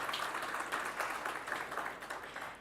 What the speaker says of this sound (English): A huge round of applause for everyone that's made it this Thursday evening.